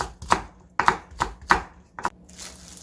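A knife chops green onions on a cutting board, giving about six crisp, evenly spaced chops close up, with no talking.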